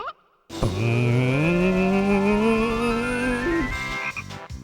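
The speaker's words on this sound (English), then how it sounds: "Get a little frog." A frog in Banjo-Kazooie lets out a single loud, drawn-out cartoonish croak that bends upward in pitch over a few seconds before cutting off, heard alone with no talking.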